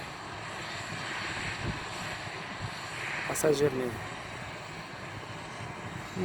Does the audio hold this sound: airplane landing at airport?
yes